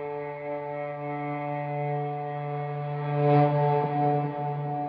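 Electric guitar bowed softly with a violin bow, producing a smooth sustained pad-like harmonic note that swells slightly midway, played alone at moderate volume.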